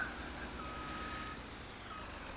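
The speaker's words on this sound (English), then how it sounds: "Loading the trucks" A truck loading logs in a video game sends out a steady reversing beep, faint and repeating evenly over a low, constant engine rumble.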